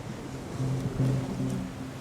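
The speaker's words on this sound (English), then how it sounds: "As the night wears on, the family cling to the wreckage of the boat as the waves relentlessly batter them." Ocean waves at night battering the wreckage of a boat, a continuous rough wash of surf with surging swells, steady and moderately loud with no talk.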